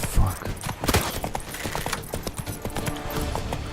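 Roach, the horse in The Witcher 3: Wild Hunt, gallops in a fast, uneven drumming of hooves that runs steadily at close range.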